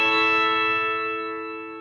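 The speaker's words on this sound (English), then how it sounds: "So for the second example, the guitar sample," A guitar sample plays a single major chord that rings out bright and sustained. It decays slowly over about two seconds, alone and clear, with no other sound.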